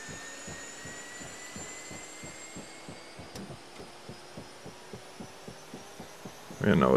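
A UH-1 Huey turbine engine winds up during a start in the DCS flight simulator, a steady hum with a slow regular throbbing pulse as the gas producer rises, ending in a louder burst.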